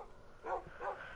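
Two quick dog barks from Minecraft's bred pet dogs, close and moderately loud, a short pair of yips about half a second apart over faint background noise.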